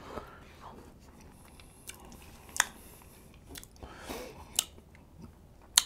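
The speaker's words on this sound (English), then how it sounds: "I gotta have crunch with my burrito." Crunchy bites and chewing of a Chipotle burrito during a mukbang, heard close up as several sharp crunches spaced irregularly over soft mouth sounds, with no talking.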